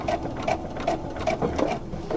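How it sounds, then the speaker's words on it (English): A sewing machine runs in a rapid, rhythmic stitching burst while back tacking a seam on a fabric pencil case, close and steady with brief changes in pace. "I am gonna back tack as I get to the top"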